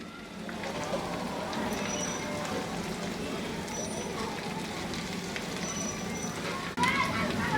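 Spiny gourd (kakrol) fries in a pan on a stove, a steady, close crackling sizzle with a brief clatter near the end.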